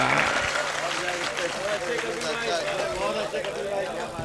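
Audience applause at a comedy show at a college, a broad continuous wash of clapping from a crowd that holds steady throughout.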